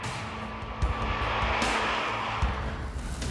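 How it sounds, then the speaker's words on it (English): Tyres on a 1997 car squeal under hard cornering at the handling limit, a sustained, fairly distant whine over steady road and engine noise with no talking. "Only when at the limit do the 195 tyres begin to protest."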